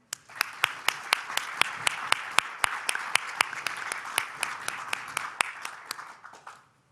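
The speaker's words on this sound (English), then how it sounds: "A big applause for them" An audience at the EUROCAE Symposium claps for the panelists, with individual hand claps standing out in an even, moderate applause that stops abruptly after about six and a half seconds.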